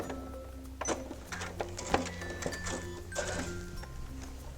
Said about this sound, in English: I'm going to stop it, turn it, and sew off catty corner.